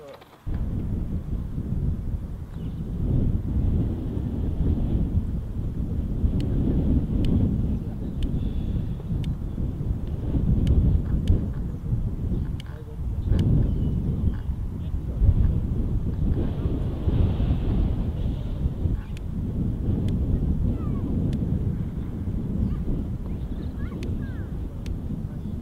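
Strong wind gusting on a cold, wet day outdoors, buffeting the microphone with a steady low roar that swells and eases throughout, with faint voices barely surfacing beneath it.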